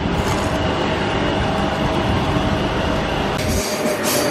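Loud, continuous rumble of a Barcelona metro train pulling into a station, with rail noise and a brief squeal of wheels near the end, no voices over it.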